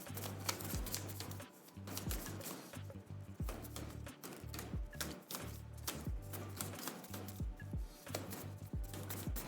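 A deck of game cards shuffled for a board game, a quick run of soft flicking and riffling clicks in steady bursts, fairly quiet and close, with no talking over it.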